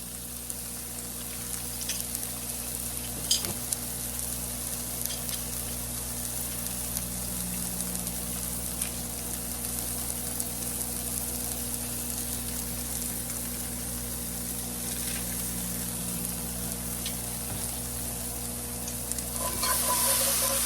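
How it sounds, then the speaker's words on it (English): Garlic, tomatoes and vegetables sizzle steadily in a pan while a utensil stirs and scrapes now and then, a constant close frying hiss with occasional knocks and no voices. "Let those cook a little bit, and then I'm going to add in 2 cloves of garlic."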